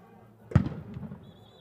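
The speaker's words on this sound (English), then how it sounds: "They fired the cannon." Stadium cannon fired at a college football game between Abilene Christian and Southern Utah, a single sharp boom with a short rumbling decay, heard at a distance against crowd ambience.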